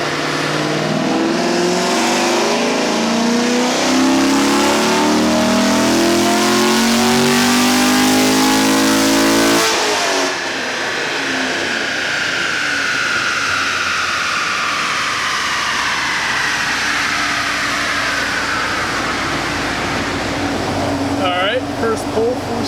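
A C6 Corvette Z06 engine revs hard on a dyno pull, rising steadily in pitch to a loud peak, then drops sharply and winds down through a long falling whine.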